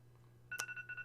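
A phone rings partway through, a sudden bright electronic ringtone with a sharp onset followed by short repeating tone pulses, faint and close over a quiet low hum.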